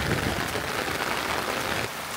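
Heavy November rain in rural Bangladesh pours down steadily, a dense, loud hiss of drops on surfaces that eases slightly near the end.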